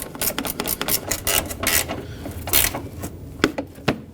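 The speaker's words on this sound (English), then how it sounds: "I'm going to get this push clip re-secured and tighten this other bolt" Tightening a bolt on the front engine mount of a 2012-2017 Toyota Camry 2.5L, with bursts of ratchet clicking and metallic rubbing in short irregular strokes, close and fairly quiet.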